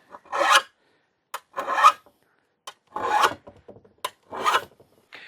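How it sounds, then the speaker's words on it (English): A hand file rasps along a steel shovel blade in single-direction strokes while the edge is sharpened, five or six distinct close strokes separated by short pauses, with no talking. "we're rubbing our file one direction only, and then just putting a little bit of an edge onto our blade"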